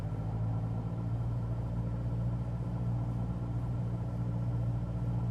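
Cessna 172SP engine in MSFS2020 held at a steady 1800 RPM run-up, a constant droning rumble that stays loud and even throughout with no talk over it.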